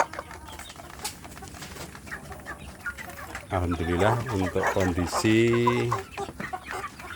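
Free-range village chickens clucking and crowing close by, a busy run of calls rising into louder, drawn-out clucks near the end, with a person talking over them.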